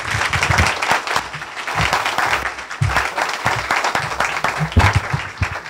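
A lecture audience applauds Professor Roger Chartier before his talk, with steady, full clapping from a sizeable crowd that fills the whole stretch and has no speech over it.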